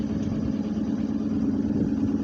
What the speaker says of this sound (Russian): Трактор пошел, пашет.